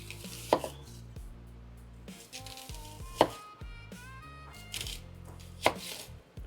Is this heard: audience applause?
no